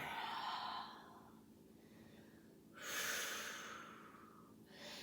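Slow, soft breaths during a gentle yoga pose, with one long exhale followed by a pause, then another breath in and out, close and quiet.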